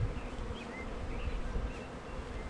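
A live honeybee swarm hums close by, a dense, steady buzzing drone with individual bees flitting past.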